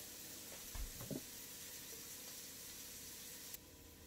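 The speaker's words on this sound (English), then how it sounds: "Now you can hear that cooking, and we are going to cook it for 2 minutes and then add in the potatoes." A potato soup base sizzles faintly in a pot as a soft, steady frying hiss, with a few low knocks from stirring near the start.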